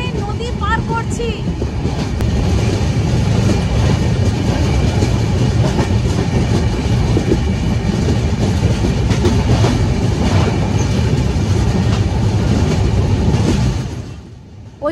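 The Coromandel Express rumbles across the Godavari river bridge, a loud continuous roar with rhythmic clickety-clack of wheels and wind buffeting, fading slightly at the end.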